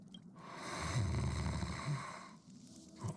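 A video game character snores loudly, with rough, snorting breaths that swell and fade over a few seconds, alone without talk.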